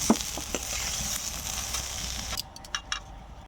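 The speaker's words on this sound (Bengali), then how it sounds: "সবজিটা হালকা ভাজা হয়ে গিয়েছে" Vegetables for momo filling fry in a pan with a dense, close hiss that suddenly drops away partway through, followed by a few sharp utensil clinks.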